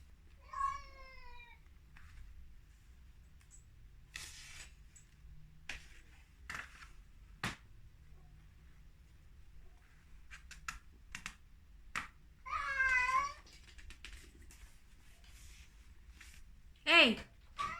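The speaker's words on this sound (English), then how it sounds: "Gotta go sort out my cat." A domestic cat meows several times, with short calls near the start, in the middle and at the end, amid quiet room tone, scattered clicks and taps, and brief snippets of speech.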